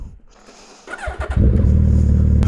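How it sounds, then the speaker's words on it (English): A motorcycle engine starts up inside a shop: a short quiet lead-in, a cranking stutter, then the engine catches and settles into a loud, steady rumbling idle close by. "Might be the last time I ever pull this motorcycle in this shop."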